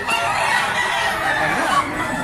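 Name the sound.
chickens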